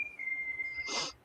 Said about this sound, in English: That's my wife's whistling.